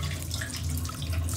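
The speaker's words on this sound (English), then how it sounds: "I'm gonna first try this out just running this under some cold water." Cold water runs from a tap in a continuous, soft, even splashing stream, heard alone at low level.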